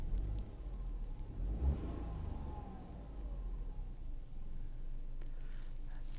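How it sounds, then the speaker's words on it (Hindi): A Tata Altroz engine revs as the accelerator is pressed, heard from inside the cabin. A steady low drone swells briefly and then holds at a moderate level, with no one talking. "मैं एक्सीलेटर दे के और दिखा देता हूँ आपको."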